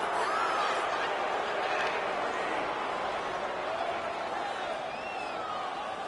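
A large arena crowd boos at a hockey video game in a continuous, dense wash of voices, sustained throughout with no pauses, sounding distant and echoing.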